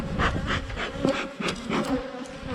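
Honeybees buzz close by during a hive inspection, a dense, wavering drone with rising and falling pulses as individual bees pass, with no talk over it.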